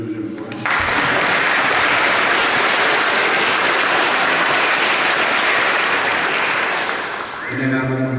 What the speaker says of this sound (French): On peut applaudir une deuxième fois.